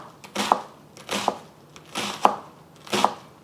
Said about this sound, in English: you can hold everything in place while you're chopping.